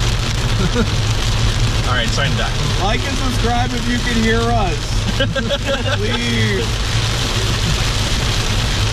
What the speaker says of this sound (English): It's raining like a motherfucker.